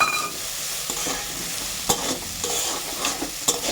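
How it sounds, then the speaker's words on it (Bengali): Vermicelli stirred and fried in a pan gives a continuous sizzle broken by several sharp scraping knocks of the spatula against the pan. "ভালো করে নেড়ে চেড়ে নিচ্ছি বন্ধুরা। দেখুন ভেজে ভেজে নিচ্ছি।"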